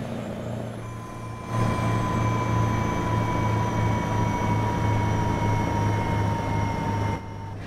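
A heavy truck drives along with a loud, steady engine drone; the sound swells abruptly after a second or so and drops back near the end, like air brakes engaging and releasing.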